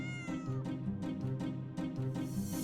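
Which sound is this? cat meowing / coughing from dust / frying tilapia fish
cat meowing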